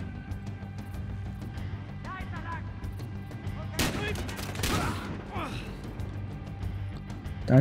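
A couple of sharp gunshots from Battlefield Hardline go off in quick succession, punchy and loud, over a low steady background hum.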